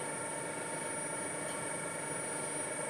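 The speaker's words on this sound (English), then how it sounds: "Yeah, 800 revs, half-inch end mill." A milling machine running at 800 rpm with a half-inch end mill, working on a rusty wheel balancer part: a steady, even motor hum with a high whine, continuous and close, with no talk.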